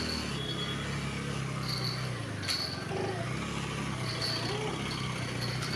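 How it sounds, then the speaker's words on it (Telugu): Cars drive past on a road near a school during afternoon traffic: a steady, fairly loud rumble of engines and tyres that swells and fades as vehicles go by. "కార్ వచ్చేసి అటు సైడ్ వెళ్తుంది"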